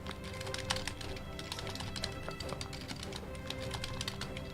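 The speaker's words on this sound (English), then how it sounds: "I'm just typing it on my other monitor" Rapid, steady clicking of fingers typing on a computer keyboard at a gaming desk, played up close over a constant low background hum, with no talking.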